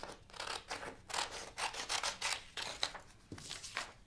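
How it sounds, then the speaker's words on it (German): Scissors snipping through paper or fabric to trim it smaller before drawing with textile markers, a close series of crisp repeated cuts and slides in a quiet room, with no voices. "Jetzt erstmal die Schere geholt, weil ich es glaube ein bisschen kleiner machen werde."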